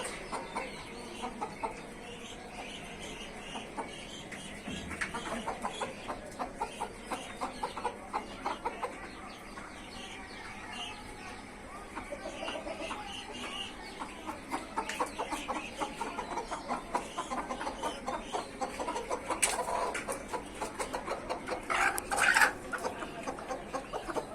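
Hens clucking softly and repeatedly as they are placed in a cage, short scattered calls over a quiet background, some nearer than others, with faint shuffling movement.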